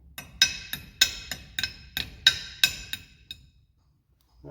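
A hammer strikes parts of a bicycle disc brake about nine times in a steady rhythm, each blow a sharp metallic clink ringing close by. The blows slowly fade before the clip ends in silence.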